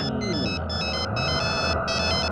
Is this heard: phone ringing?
yes